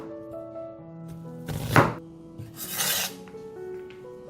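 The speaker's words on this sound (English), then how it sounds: "Chop it up." Knife chopping through a chilli on a board as it is cut up, a couple of loud rasping strokes close by between quieter stretches, no talking.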